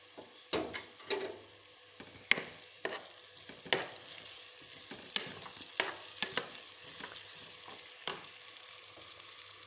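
Garlic is added to browned onions in a pan, giving a faint, steady sizzle broken by repeated scraping and clinking strokes of a stirring spoon.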